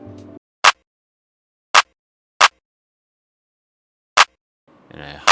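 A dry clap drum sample in a beat hits four times alone, sharp and punchy with silence between the irregularly spaced hits; a voice talks briefly at the start and again at the end.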